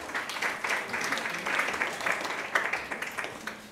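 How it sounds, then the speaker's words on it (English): Steady audience applause as a guest is welcomed onto the stage at a fashion talk event, dense clapping holding throughout at moderate, fairly distant level with no voices on top. "Applause, please."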